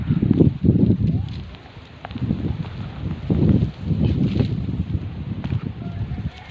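Strong wind buffets the microphone outdoors in loud, gusty low rumbles that rise and fall over several seconds, with no other clear sounds.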